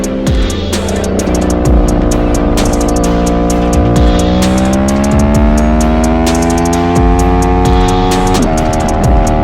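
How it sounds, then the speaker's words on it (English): Several high-revving sport motorcycles, a Ducati Superleggera V4, BMW M1000RR, Aprilia RSV4, Yamaha R1M and GSX-R among them, race together as a loud, continuous engine whine, pitch rising steadily with one sharp shift near the end. "just hearing these bikes all together is insane"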